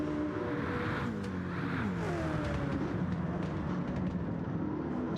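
V8 Supercars race cars, a Mustang among them, roar past on a racing track in a video game, engines droning steadily with rising and falling pitch as several cars run close together throughout.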